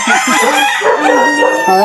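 A rooster crows loudly and close, with chickens clucking around it, at a game farm in Guagua, Pampanga, Philippines.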